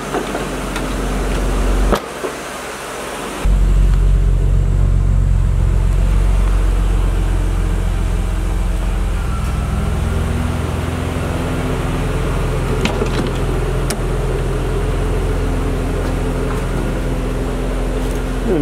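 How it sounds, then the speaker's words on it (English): A BMW E36 M3 convertible engine starts with a short crank and then settles into a steady, loud idle that runs without a break, with low rumble close to the microphone and no talking. "let's go fire up the convertible"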